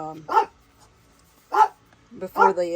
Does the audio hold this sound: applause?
no